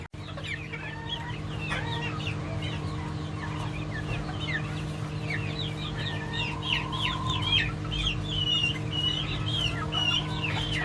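A rooster and chickens cluck and squawk continuously in a busy coop, with a steady low hum underneath and no talking.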